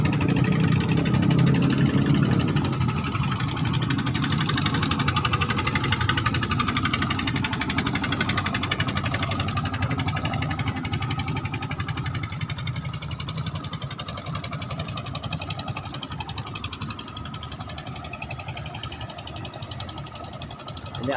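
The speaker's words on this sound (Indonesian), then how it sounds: "kapal kelotok." A klotok, a wooden river boat, chugs steadily with its engine running, a loud continuous mechanical drone with rapid throbbing pulses that eases slightly over twenty seconds.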